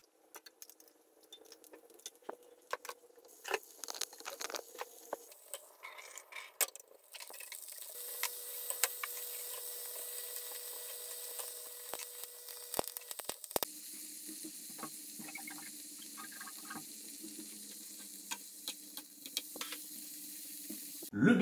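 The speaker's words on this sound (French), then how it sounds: "on vient les placer délicatement dans la poêle et on laisse cuire le tout" Bacon slices cooking in Coca-Cola in a pan start with faint clatters and handling sounds, then a bubbling sizzle rises and holds steady. After a brief break it continues at a lower, softer simmer.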